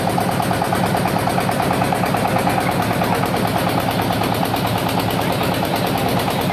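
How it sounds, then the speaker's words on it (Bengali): A boat engine on the Meghna river chugs loudly and without a break, its rapid, even thumping close by and steady from start to finish. "আমি মেঘনা নদীর চক্কর দিয়েছি একটা বোট নিয়ে, নৌকা নিয়ে"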